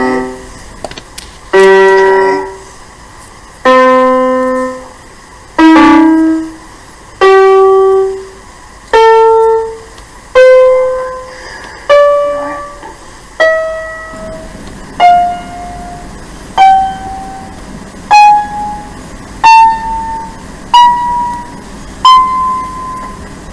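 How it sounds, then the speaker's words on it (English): Sequence of struck bar tones climbing through the overtone series from the second overtone, about fourteen separate ringing notes at a steady walking pace, each decaying before the next, rising in pitch, microtonally tuned, no talking. "The overtone series from the second overtone sounds like this."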